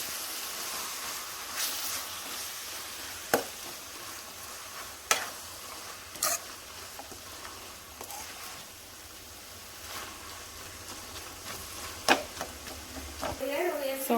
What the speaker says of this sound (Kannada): ಸೊ ಇದು ಚೆನ್ನಾಗಿ ಫ್ರೈ ಆಗಬೇಕು.